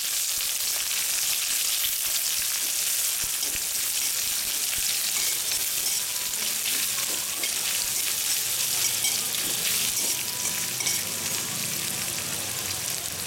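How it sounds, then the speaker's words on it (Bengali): Chopped onions sizzle and spit steadily in a hot pan for a chicken kasha, a dense, continuous frying hiss that stays close and even throughout. "এবার দিয়ে দিচ্ছি কেটে রাখা পেঁয়াজটা।"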